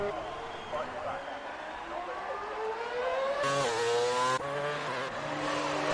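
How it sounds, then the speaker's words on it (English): Engines of F1 2019 video game racing cars, including a McLaren, howl through the Spa-Francorchamps circuit in Belgium, pitch rising steadily through gear changes, continuous and fairly loud beneath a commentator talking throughout. "the McLaren driver heads through La Source, gets through there nicely."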